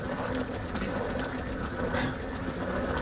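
A Chef-Master salad spinner whirls freshly harvested collard greens, giving a steady, dense rattling whir with a rhythmic clatter that holds constant and close throughout.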